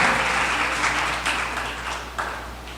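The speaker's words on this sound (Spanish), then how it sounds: "Dale un aplauso al Señor" A church congregation applauds in a steady, even wash of many hands, moderately loud and continuous throughout.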